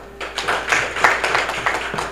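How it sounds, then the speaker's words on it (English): An audience at a Machakos University alumni association inauguration gives a brief round of scattered clapping for the alumni, steady and moderately loud in a hall. "Let's clap for them."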